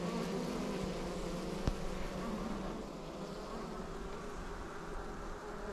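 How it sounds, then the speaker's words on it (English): A dense, steady hum of a package of bees buzzing fills the space, low and continuous at close range with no voices. "So that's the package of bees there."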